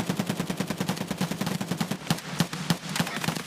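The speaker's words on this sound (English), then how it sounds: "Fire a bunch of random rounds." Rapid rifle fire in the video game Escape from Tarkov, a fast even stream of loud close shots with no pauses.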